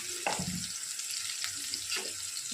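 A large chopped tomato with turmeric, chili powder and salt fries quietly in a pan, a soft sizzle broken by a few brief stirring scrapes, close but low in level, with no talking.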